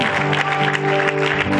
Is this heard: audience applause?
yes